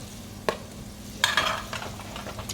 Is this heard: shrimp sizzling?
yes